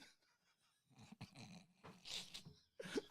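A pet dog named Frankie indoors, making soft, close panting and low grumbling noises in short irregular bursts, with a brief whimper-like squeak near the end.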